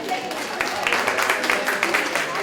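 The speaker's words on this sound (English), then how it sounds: "Give a clap to Dr. Eileen." An audience clapping for a speaker at a teacher awards talk, a moderate patter of hands mixed with voices and murmuring throughout.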